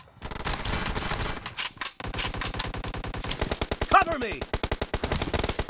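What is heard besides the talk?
gunfire in a video game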